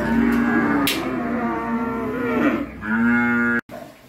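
Cows and calves mooing at a cattle farm: several long, loud, close lowing calls follow one another, with no talk.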